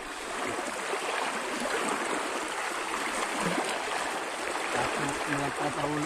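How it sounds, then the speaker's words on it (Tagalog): A strong river current rushes past in a muddy area, a dense, continuous broadband wash of flowing water close by. Faint voices and low thuds come through near the end. "Lakas ng agos ah."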